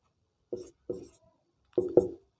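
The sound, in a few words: writing formula on a board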